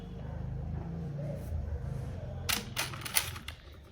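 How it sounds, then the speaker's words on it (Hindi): Coins dropped into a bowl, a quick cluster of bright metallic clinks and taps following a quiet stretch of low room noise, close by. "अब मैं इसमें सिक्के रखूंगी"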